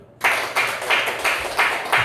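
Slow, rhythmic hand clapping from a group in a classroom, about six broad claps evenly spaced and moderately loud, with no other sound between them.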